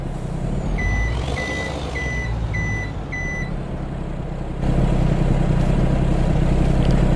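A truck's reversing alarm in Farming Simulator 22 beeps five times in a steady rhythm over a loud rumbling engine, then the engine note rises and carries on alone.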